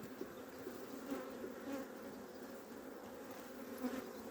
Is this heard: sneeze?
no